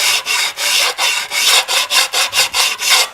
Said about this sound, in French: On va quand même passer un petit coup de ponçage pour ne pas se couper